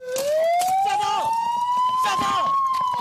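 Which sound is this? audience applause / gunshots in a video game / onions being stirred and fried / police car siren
police car siren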